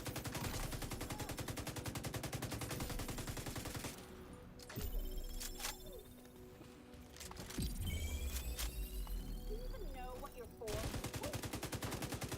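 Gunfire in the video game Division 2: dense, continuous automatic bursts, a short lull with scattered shots and clicks, then heavy sustained fire again, all loud and close.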